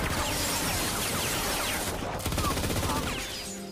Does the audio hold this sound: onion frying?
no